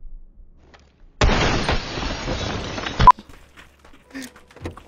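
A grenade blows up inside a room in the shooter game PUBG, a loud, dense burst of noise lasting about two seconds that cuts off abruptly, followed by faint game sounds.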